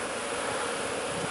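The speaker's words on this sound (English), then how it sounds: "we're getting some new bees now" Honeybees buzz at a beehive in a dense, continuous hum, steady and fairly loud with no voices.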